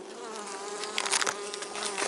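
Honey bees buzz at an open hive, a close, steady droning hum with brief louder flurries as individual bees pass near.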